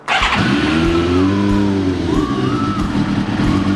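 A 1995 Yamaha YZF 750R motorcycle engine, on full choke, cranks and catches right away, then runs loudly and unevenly close by, its pitch wavering as it settles.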